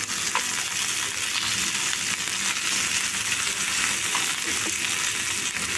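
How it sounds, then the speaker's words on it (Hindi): Chicken coated in flour, butter garlic chicken style, fries on a medium flame with a steady, dense sizzle and crackle that stays loud and even throughout, with faint stirring touches now and then. "मीडियम फ्लेम रे ही फ्राई करिबे।"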